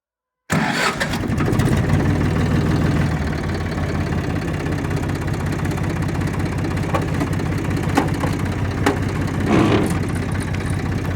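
A Zetor 3011 tractor engine cranks and fires up, then settles into a loud, steady, throbbing idle that runs on without a break.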